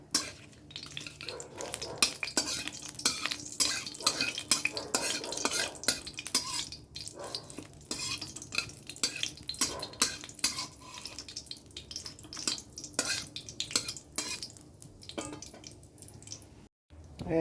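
Taro is frying with cumin seeds, dried chili and bay leaf in a pan, giving off a soft sizzle. Stirring scrapes and clinks against the pan throughout at low volume.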